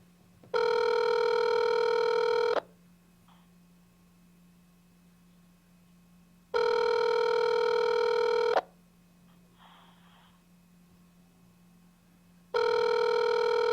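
A telephone rings in long electronic bursts, three rings spaced several seconds apart with a steady low hum between them.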